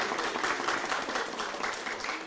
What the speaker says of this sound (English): So first of all, by applause, do you believe it was Barbie in pink?